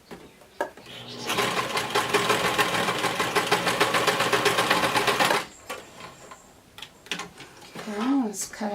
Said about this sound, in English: So let's turn our machine back onto the straight stitch and stretch this out.